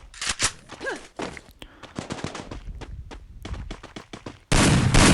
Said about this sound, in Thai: ยิงไปสองนัดมา MP42 ครับ